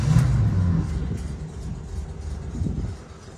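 A 1964 VW Combi T1 with 21 windows idling after a cold start with no throttle, a steady low air-cooled engine rumble that is strongest at first and then settles slightly quieter.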